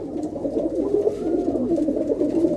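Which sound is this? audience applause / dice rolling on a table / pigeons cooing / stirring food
pigeons cooing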